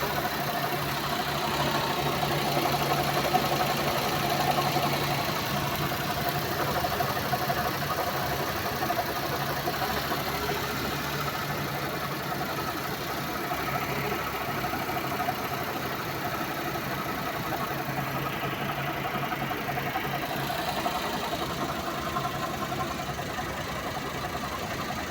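A Suzuki DA64 van engine idles steadily with a smooth, even hum and faint ticking that holds at a constant level throughout, with no talking.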